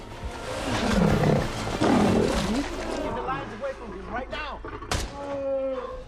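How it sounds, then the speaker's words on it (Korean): Male lions of a pride roar and snarl while attacking an intruding lion in a film scene. Deep, loud, close roars dominate, with a heavy thud partway through, and a narrator's voice talks over them. "단디 무리의 수사자들이 자신들의 영역을 침범한 사자를 공격합니다."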